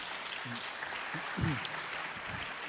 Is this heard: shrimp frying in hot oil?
no